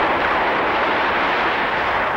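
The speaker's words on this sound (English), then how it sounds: "the first atomic test explosion" A cartoon atomic test explosion effect from a 1958 animated short: a dense, sustained roaring blast that holds at steady loudness for about two seconds with no voices over it.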